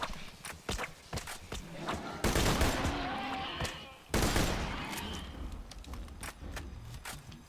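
Gunfire in the shooter game Borderlands 2, played as the Siren: scattered sharp shots, then two dense, loud bursts of sustained firing with rumbling impacts, fading back to sporadic pops.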